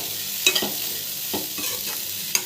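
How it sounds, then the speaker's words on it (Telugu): Chopped broad bean pieces drop into a hot frying pan and sizzle steadily, with several sharp scrapes and stirs of a spatula at irregular moments; close and fairly loud, no talking. "ఇప్పుడు ఇదిగోండి చిక్కుడుకాయ ముక్కలను వేసేస్తున్నాను"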